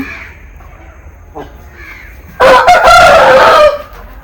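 One loud, close rooster crow on a chicken breeding farm where eggs are hatched rises suddenly after a quiet stretch of faint farmyard sounds and lasts just over a second.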